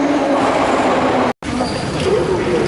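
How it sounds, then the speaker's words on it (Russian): Saint Petersburg metro train arriving at a station, a loud continuous rumble and hiss of the train with a faint high whine, cut by a very brief gap midway. "А вот и поезд мой пришел."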